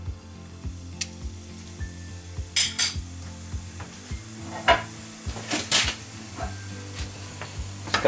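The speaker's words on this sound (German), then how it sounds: "Wenn das Öl heiß ist, dann gebe ich den Kümmel rein" Caraway seeds and a chili pod hit hot oil in a pan, a soft steady sizzle running beneath sporadic clanks and scrapes of a utensil against the pot.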